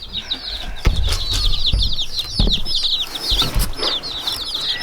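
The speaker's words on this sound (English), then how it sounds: "So we got green queen chicks and Kana chicks, Buff Orrington, Buckeyes." Baby chicks of the Buff Orpington and Buckeye breeds peep constantly in a dense, high chorus right up close. Soft thumps and a little wing fluttering come and go beneath the calls.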